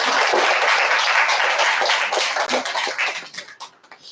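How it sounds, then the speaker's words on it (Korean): An audience at an indoor gathering claps in encouragement, starting as dense, full applause and thinning into scattered individual claps as it fades out. "그 많은 식구님들을 위해서도 응원과 격려의 박수를 한번 부탁드리겠습니다."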